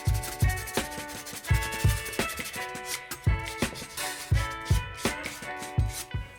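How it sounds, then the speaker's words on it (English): Steady back-and-forth rasping strokes of sanding a clay model, rhythmic and close, repeating evenly with no voices. "I gave it a quick sanding, so that I was ready to paint it."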